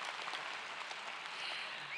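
An audience at a 2023 university undergraduate commencement breaks into applause, a soft, steady wash of many hands clapping, heard from a distance and without speech.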